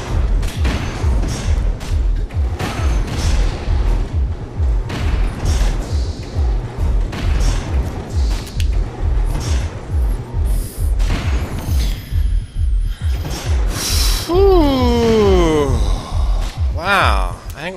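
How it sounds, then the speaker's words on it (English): Rocket launcher shots in the side-scrolling game Bionic Commando Rearmed boom and thud in a rapid series of heavy blasts amid game effects, with someone talking throughout. "And here we are, trying out the rocket launcher."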